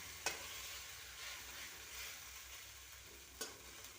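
A Maggi noodle omelette fries in a pan just after being flipped, giving a faint, steady sizzle with a couple of sharp clicks from the spatula.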